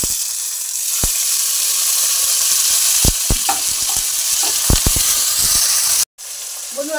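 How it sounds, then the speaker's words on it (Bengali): Grated ginger and tomato fry with cumin in hot oil, a loud, steady close sizzle with intermittent spoon taps and stirring, ending in a brief cut and quieter frying. "আমার আদা টমেটোটা হালকা করে ভাজা হয়ে গেছে"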